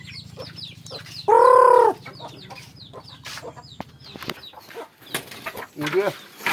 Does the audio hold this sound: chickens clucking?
yes